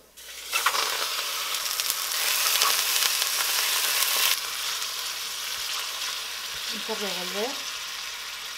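Chicken pieces dropped into a hot pan with finely minced garlic for a chop suey, bursting into a loud, steady sizzle that eases to a lighter frying hiss, with a brief whistle-like tone near the end.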